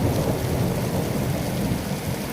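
Heavy rain pours steadily during a strong storm in Slovakia, with a dense, continuous roar and deep rumbling thunder throughout, no voices.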